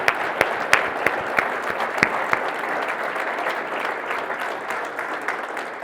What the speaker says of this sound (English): Will you please join me in a round of applause for them?